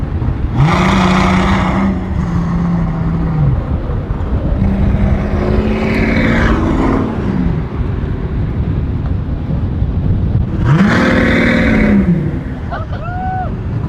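A loud engine roars throughout, rising in pitch in two strong bursts of revving with a quieter swell between them.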